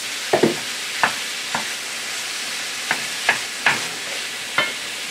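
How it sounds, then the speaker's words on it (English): High-fat ground beef frying in a skillet for a cheesy taco casserole, a steady sizzle punctuated by about eight sharp scraping knocks as the meat is broken up, close, no talking. "I'm going to break it up as I put it in the pan"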